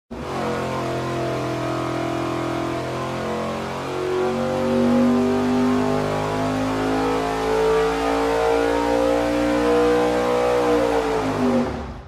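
A big block engine on a dyno with a 1450 CFM carburetor, loud and close, a sustained pull whose pitch climbs steadily to a high roar before cutting off at the end.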